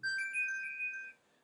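A mobile phone rings with a bright electronic melody of sustained tones, loud and alone in a quiet room, then cuts off abruptly.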